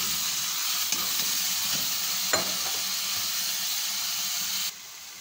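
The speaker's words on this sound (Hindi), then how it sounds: "अब थोड़ा सा इसी में चिकन को फ्राई करेंगे" Chicken pieces frying and sizzling in a pan for a cream and cheese chicken dish, a steady close hiss with a few brief stirring clicks, no talking, cutting off slightly quieter near the end.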